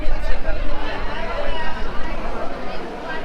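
A dense crowd of voices chatters all at once at a busy railway junction during the Maha Kumbh pilgrimage, a steady murmur of overlapping talk with no single voice standing out.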